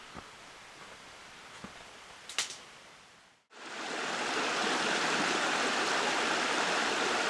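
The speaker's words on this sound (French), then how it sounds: "Donc là on est aux abords du ruisseau." A stream flows through snowy woods, first as a faint trickle with a few soft knocks, then after a brief cut the rushing water turns loud and steady, close by and filling the scene without speech.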